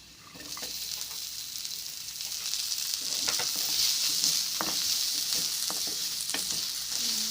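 Onion frying in a little oil in a pan, a steady close sizzle with occasional stirring scrapes and crackles throughout.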